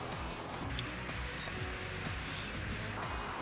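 A can of Plutonium spray paint hissing steadily as a coat is applied, one continuous close spray burst of about two and a half seconds between quieter moments.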